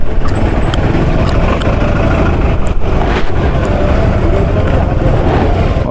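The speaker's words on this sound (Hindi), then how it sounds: "और भाई ये देखो ट्रैफिक देखो यहाँ पे" Road traffic stuck in a jam on the mountain road to Sonprayag, where the road is being paved, heard as a loud, constant engine and traffic rumble close by.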